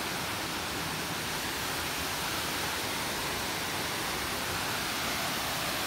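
Tausuban Falls waterfall pours in a steady, dense roar of rushing water, continuous and even throughout with no talking.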